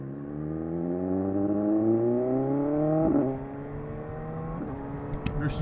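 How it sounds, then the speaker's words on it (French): A 2018 BMW S1000R roadster motorcycle revs hard, its engine pitch climbing steadily before a quick drop as the quickshifter clicks up a gear, then it pulls on at a steadier drone from close by. "Le shifter qui passe tout seul."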